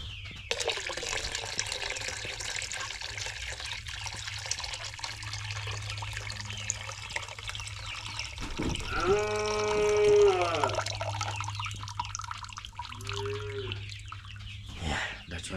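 Herbal mixture being poured into a container of water for chickens, a steady close splashing and trickling that runs throughout, with a brief voice partway through.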